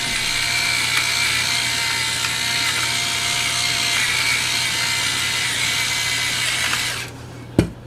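A salt grinder grinds salt with a steady, continuous ratcheting crunch that runs close and unbroken for several seconds before stopping with a final knock.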